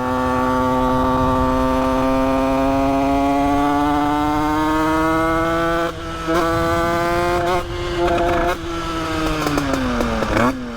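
A 50cc moped engine running with its fuel cut off, holding a loud, steady buzzing idle that wavers and stutters in the last few seconds as it starves and the pitch sags.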